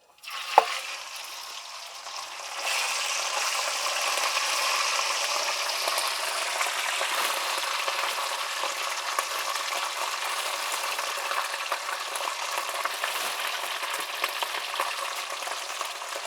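Sour fermented pork (som) crackles as it deep-fries crisp in hot oil, a dense and steady sizzle that swells after a couple of seconds and holds loud and continuous, with no voices.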